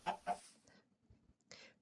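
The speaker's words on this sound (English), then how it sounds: "Or chickens." Chickens in a farming video game make a few quick, faint clucks, two sharp bursts at the start and another short cluck near the end, separated by quiet.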